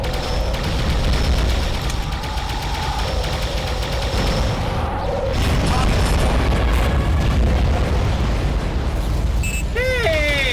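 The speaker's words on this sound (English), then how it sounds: "This is still the best gun, though, the laser Gatling." Laser Gatling gun in the underwater game AquaNox, sustained rapid firing with booming blasts, loud and continuous, with voices talking over it.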